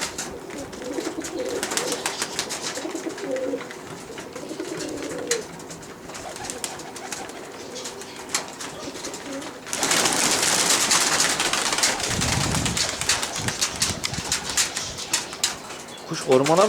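Tumbler pigeons flown from a loft flap and whir overhead, with a louder burst of wing noise in the second half, alongside outdoor ambience and some brief talk.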